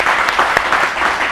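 A brief burst of close, loud audience applause at a talk show event, dense steady clapping throughout.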